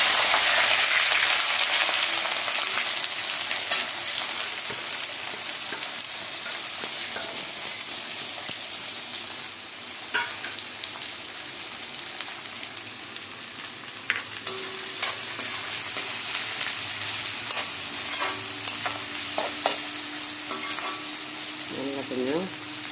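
Onion and curry leaves sautéing in oil for aval upma, a loud steady sizzle that fades to a softer hiss, with repeated stirring scrapes and light clinks of a spoon against the pan in the later half.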